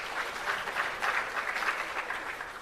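An audience at a launch event for 4IR centres of excellence applauds steadily for a dignitary, with a dense, even patter of many hands clapping. It stays moderately loud for about two and a half seconds and has no talk over it.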